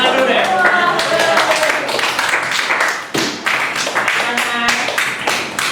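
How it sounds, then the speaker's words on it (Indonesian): Applause at the end of a classroom presentation during a teacher-training practice assessment, with a group clapping briskly and unevenly for several seconds while voices talk over it. "Tepuk tangan dulu deh"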